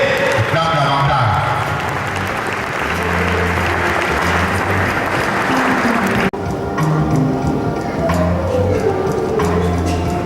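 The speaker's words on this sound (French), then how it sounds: "Double the clap again." A church congregation clapping, sustained dense applause throughout, loud and close, with a voice speaking over it.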